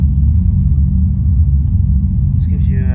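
Deep, continuous bass rumble from a Bose Cinemate subwoofer during movie playback, steady and loud throughout, with a brief higher tonal sound entering near the end.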